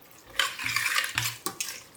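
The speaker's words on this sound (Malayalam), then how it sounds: "നന്നായിട്ട് മിക്സ് ചെയ്തെടുക്കാം." A spoon scrapes and clanks against a metal pressure cooker while stirring squid masala with fenugreek and fennel seeds, in several uneven bursts close up, with no talking.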